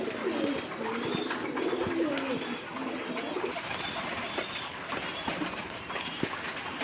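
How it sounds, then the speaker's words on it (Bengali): Several pigeons gathered at a feeding pot coo in a low, steady chorus nearby, with light scattered clicks and some faint human speech. "দেখতে পাচ্ছেন কবুতরগুলো কিন্তু খাচ্ছে"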